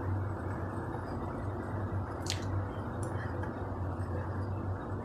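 Roasted rice flour is stirred in coconut milk in a pan on the gas, giving a steady bubbling, squishy wet sound with a low hum underneath and a couple of faint clinks.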